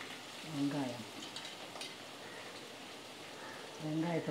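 Chopped onions sizzle in a pan as they are stirred while frying with curry leaves for a raw banana masala, a soft steady crackle with brief scraping stirs at the start and end.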